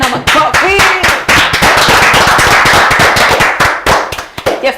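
Applause from a studio audience on a Kikuyu-language TV programme, a dense burst of many hands clapping, loud and close, continuing steadily with sharp individual claps standing out throughout.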